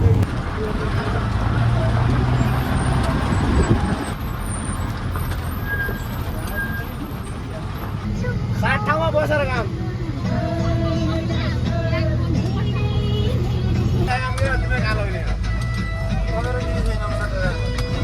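A bus grinds along a mountain road toward Mugu between Jumla and Rara Lake, its low engine rumble running steadily under constant passenger chatter and cabin rattles.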